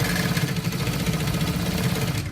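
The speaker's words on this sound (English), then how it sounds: "I'm just going to sew that edge round" A sewing machine runs fast and steadily along the pocket edge of a trouser, its rapid stitching pulse close and loud throughout, with no talking.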